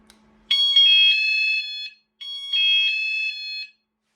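Two long electronic alarm beeps from a car key fob alarm triggered by holding the bell button, each about a second and a half with a short gap, loud and close with a faint hum beforehand.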